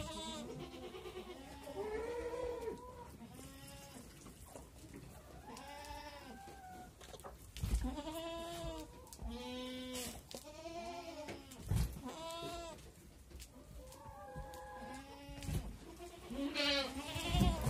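Goats in a barn, including pregnant goats, bleat repeatedly in a chorus of overlapping wavering calls, some near and loud, others softer, with occasional thumps and stirring in between.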